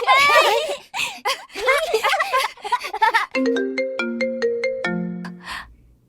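A phone ringtone plays a bright, clear sequence of electronic melody notes, following a stretch of animated voices and sounding on its own at close range.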